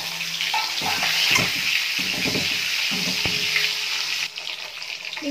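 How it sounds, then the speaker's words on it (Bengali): Four duck eggs coated in turmeric and salt fry in hot oil in a kadai, giving a steady close sizzle with occasional scraping of a spatula. "প্রথমে আমি ডিমগুলোকে ভেজে নেব, তার জন্য আমি এখানে কড়াইতে তেল গরম করে নিয়েছি।"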